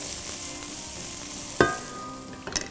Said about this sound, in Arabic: نسف شوي البصل. بنحركهم بسرعة